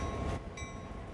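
An EMD GP38-2 diesel locomotive in the Train Sim World 2 simulator rolls along at low speed, a steady engine rumble with tonal hum and a faint whine rising partway through, no talking.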